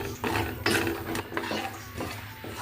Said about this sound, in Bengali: তাওয়া বসিয়ে এই মশলাটা দিয়ে দিব। দিয়ে চুলার তাপটাকে একদম বাড়িয়ে দিয়ে 1 মিনিট এটাকে জাস্ট একটু গরম করব আর অনবরত নাড়তে থাকব।